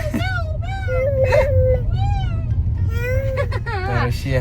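A person's voice imitates a cat's meow, drawn-out wavering calls repeated several times at close range, with other talking mixed in.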